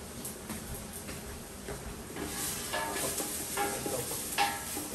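Pork meat sizzles and browns in a frying pan for pork humba, a steady hissing crackle with occasional stirring scrapes and ticks from a spoon, moderately quiet and close, no talking.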